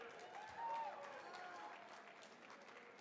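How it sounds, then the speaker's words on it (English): Audience applause at a gala, a steady wash of clapping from a crowd that swells briefly near the start and then holds at a moderate level, with faint voices mixed in. "I heard some applause or shout out for Youth Builders"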